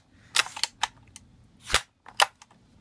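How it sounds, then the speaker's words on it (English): A JG M70 airsoft rifle fires into a chronograph, giving several sharp, close cracks and snaps spread over a few seconds, each short and crisp with silence between. "I probably shot the side of the chronograph."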